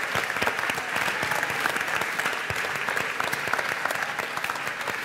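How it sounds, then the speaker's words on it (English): An audience at a live youth theatre performance of Madagascar Jr. applauds steadily, a dense wash of clapping hands throughout, loud and sustained. "give it up for a big round of applause for them"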